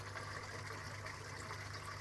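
Water rushing and gurgling as it drains through a siphon out of an IBC tank, with a steady turbulent flow and a low pump hum underneath.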